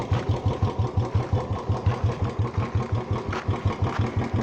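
A Royal Enfield Bullet motorcycle, an old machine with about 35,000 on it that has been in an accident, idles close by with a steady, even thump of evenly spaced low pulses throughout.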